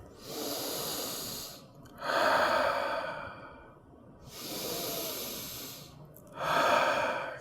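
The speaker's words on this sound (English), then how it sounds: "Let's try 2 breaths." Slow, deep breaths drawn in and pushed out twice, each inhale and exhale a long airy rush, close and clear with no talking during a children's chair yoga session.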